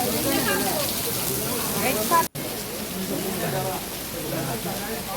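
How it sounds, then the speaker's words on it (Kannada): Heavy rain pours at a temple as a dense, even hiss that fills the whole stretch. A person talks over it, and there is one brief dropout partway through. "ಒಂದೊಂದು ಮಳೆ, ಎಂಥ ಮಳೆ ಗೊತ್ತುಂಟ, ದೊಡ್ಡ ದೊಡ್ಡ ಮಳೆ ಆಯಿತಾ"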